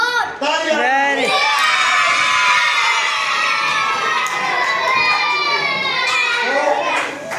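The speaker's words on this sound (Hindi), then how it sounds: "तालियां" A classroom of children erupts in loud, continuous cheering, shouting and whoops that hold for several seconds before tapering off.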